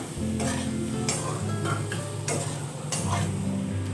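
Papaya and potato stirred in a frying pan with cumin powder, chili powder and slit green chilies: a constant close sizzle with repeated soft scraping strokes roughly every half second.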